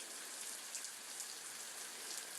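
Steady rain falls in a soft, even hiss with scattered drop patter, faint and continuous with no voices.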